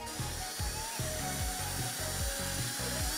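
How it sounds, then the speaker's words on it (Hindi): A drill bit chucked in a screwdriver bites into an aluminium plate, sounding as a close, rhythmic series of grinding pulses, roughly two or three per second, over a steady motor whine. "बस इसे किसी ड्रिल या स्क्रू ड्राइवर में लगाना है और इससे एल्युमिनियम की प्लेट में छेद करना है"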